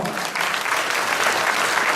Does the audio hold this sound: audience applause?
yes